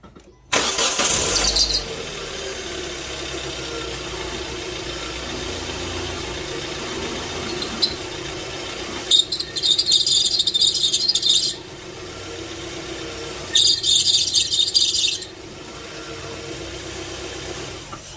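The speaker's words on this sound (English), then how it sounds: "you notice that it's still slipping the belt from the power steering pump" A car engine idles with a slipping power steering pump belt, letting out loud, harsh squeals in three bursts over a steady close engine hum, with no talking.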